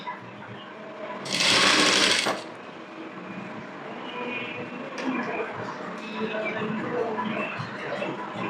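Sewing machine stitching a double-folded hem on a blouse, one loud close burst of running stitches near the start, then quieter handling and low mechanical noise.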